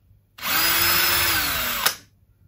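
A power drill bores a pilot hole into the wooden body of a Firebird-style guitar kit, one steady whirring burst of about a second and a half, close and loud, ending with a sharp catch as the bit stops.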